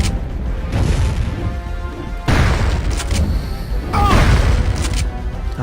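Explosive rounds fired in Turok 2 land as three heavy booming blasts spaced about a second or two apart, each followed by a rumbling tail, loud and close.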